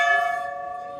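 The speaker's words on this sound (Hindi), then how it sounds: "तो मैं भी 1 घंटी बजाई" A large temple bell rung at Varanasi rings out with a clear metallic tone that sustains and slowly decays over its bright overtones, loud and close, with no voices.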